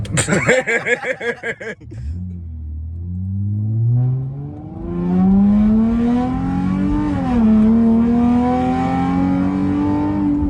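A Chrysler 300 V6 engine starts with a sputtering rumble, then revs up in long rising pulls, loud and close, holding a strained high whine.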